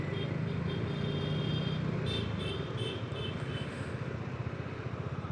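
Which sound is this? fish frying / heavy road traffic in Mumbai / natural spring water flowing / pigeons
heavy road traffic in Mumbai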